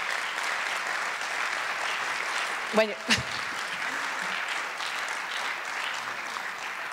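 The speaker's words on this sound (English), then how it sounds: "could you please put a massive round of applause for Victor" Audience applause at an award ceremony, a steady wash of crowd clapping running throughout at even level, briefly overlaid by a short spoken phrase near the middle.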